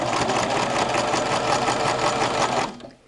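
A sewing machine stitches patchwork fabric for placemats, whirring at a fast, steady, mechanical pace close by before winding down and stopping near the end.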